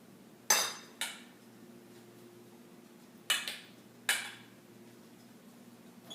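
A cake pan being shaken and tapped to coat it with flour, four sharp metallic rattling knocks spaced irregularly, close and loud against a quiet background.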